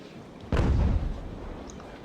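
A single cannon shot from a battery in Ultimate General: American Revolution booms out alone, a sharp loud blast with a low rumbling tail that fades over about a second.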